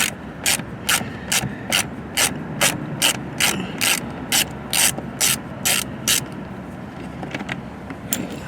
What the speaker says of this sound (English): we're going to use a Torx T15 and we're going to remove the two factory screws